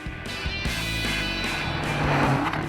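A 2013 Ferrari California's V8 engine and exhaust on an Indian road, a loud continuous rumbling drone that holds steady and swells slightly toward the end, close and without speech.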